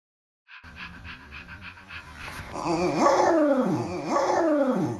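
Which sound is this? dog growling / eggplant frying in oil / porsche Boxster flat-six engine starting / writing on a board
dog growling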